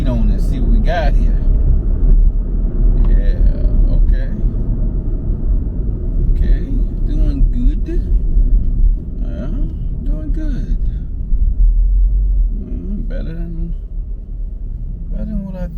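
Engine rumble fills the cabin of a fire-damaged 2013 Chevy Equinox pushed for speed on a test drive, a steady loud drone with road noise throughout while someone talks over it.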